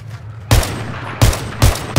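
An SVD sniper rifle firing in a video game: four loud, sharp shots at uneven intervals, each with a short booming tail, with no voices.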